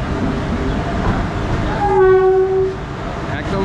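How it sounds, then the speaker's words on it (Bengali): The Kolkata–Haldibari Superfast Express arrives at a station, with a loud sustained train horn blast in the middle over the steady rumble of the approaching train. "কলকাতা হলদিবাড়ি সুপারফাস্ট এক্সপ্রেস ঢুকছে।"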